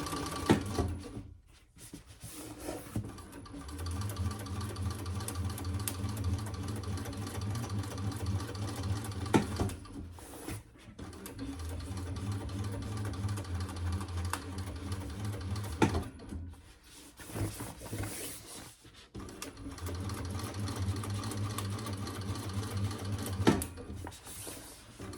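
A sewing machine runs in long steady stitching bursts while sewing a divided basket, following a previous stitch line, with brief pauses between runs; the motor hum is close and even.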